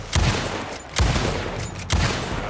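Three loud, close gunshots from the video game Red Dead Redemption 2, evenly spaced about a second apart, each a sharp blast trailing off into a reverberant tail, with no voices.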